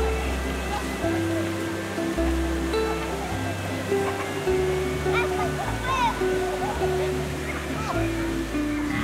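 Resort pool waterfall at Disney's Polynesian Village Resort, a steady broad rush of falling water that runs continuously under background music.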